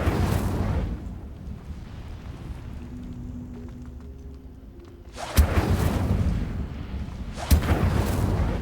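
Fire spell Incendio cast in the Hogwarts Legacy video game, bursting as two loud whooshing blasts, the first a sustained roar and the second a shorter burst, after a quieter humming stretch of game ambience.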